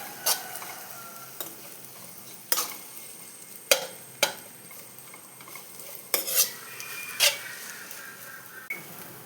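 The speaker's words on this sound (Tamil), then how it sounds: "வெண்டைக்காய் சவத்ததும் அரைச்சி வச்ச தேங்காவை போட்டு கிளறணும்." Okra is stirred with ground coconut in a hot pan for vendakka thoran. A spoon knocks and scrapes close and loud about every second over a low, steady sizzle, and nobody speaks.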